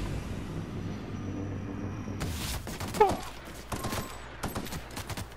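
Shooting at enemies in the video game The Outer Worlds: after a quieter start, a few loud gun bursts and single shots crack close together over the last few seconds.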